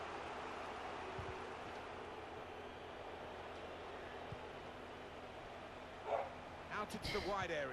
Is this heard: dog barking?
yes